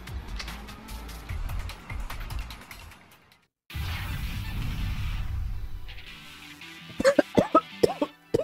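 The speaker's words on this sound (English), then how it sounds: "I'm coughing like a bitch right now." A person coughs in a cluster of sharp, repeated bursts near the end, loud and close, after stretches of busy Yakuza 4 game sound and noise.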